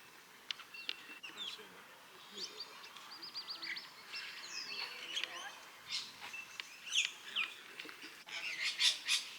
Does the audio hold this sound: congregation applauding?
no